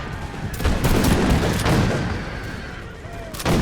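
Infantry musket volleys in the Napoleonic strategy game Imperial Glory, with repeated loud crackling bursts of massed gunfire and rumbling booms rolling over one another through the whole stretch.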